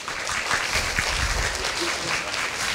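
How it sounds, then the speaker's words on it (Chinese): Audience applause welcoming a speaker onto the stage at a university lecture event, a steady wash of clapping from a crowd, moderately loud and continuous throughout. "请大家用热烈的掌声欢迎胡志强，永远的台中市市长。"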